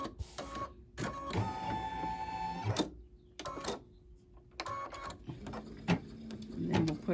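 An embroidery machine stitches a bee design onto a fabric mug rug in the hoop, giving rapid mechanical chattering bursts separated by short pauses, close and fairly clear.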